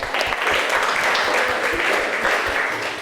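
A room full of people applauding, dense steady clapping that holds loud and continuous throughout, close by, without pauses.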